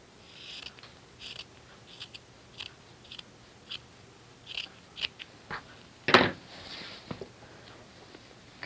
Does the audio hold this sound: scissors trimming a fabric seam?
yes